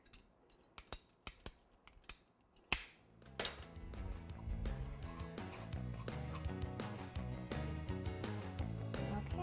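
Scissors snipping through cardboard for a novelty bowling ball cake support, several sharp crisp cuts in quick succession, then fading under a dense layer of background music.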